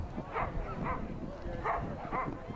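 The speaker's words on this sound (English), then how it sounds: "What a lovely little dog." A small dog yips and barks in short bursts at a dog show final, four or five quick barks in an uneven rhythm over crowd noise and a voice talking.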